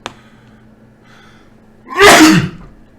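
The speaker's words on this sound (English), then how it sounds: "Okay, so now I'm about to sneeze." A single loud sneeze bursts out near the end after a quiet stretch, sharp and close, with a brief breathy tail.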